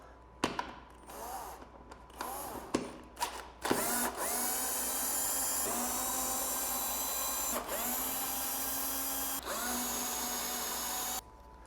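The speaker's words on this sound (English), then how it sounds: "there are four number 4 Allen head screws right here that need to be removed" A power tool backs out number 4 Allen head screws from the tail of a 2025 Ducati Panigale during a fender eliminator install, a few short bursts followed by long, steady whirring runs, loud and close.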